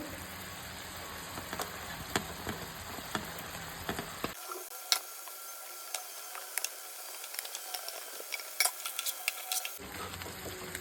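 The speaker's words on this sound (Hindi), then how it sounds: "अब हम गैस को करेंगे हाई फ्लेम पे और हमारा फ्राई किया हुआ चिकन जो है ना उसको डालेंगे इसमें।" Fried chicken hitting sizzling gravy in a pan on high flame for a Goan chicken cafreal, with a constant sizzle and frequent sharp ticks and pops from spattering oil.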